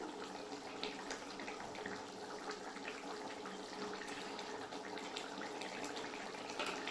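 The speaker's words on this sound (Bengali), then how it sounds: "একটু গরম করে রেখেছিলাম জলটা দিয়ে দেবো।" Warm water poured steadily into a simmering curry of potato and pointed gourd, a continuous moderately loud splashing pour that runs unbroken for the whole stretch with no talking.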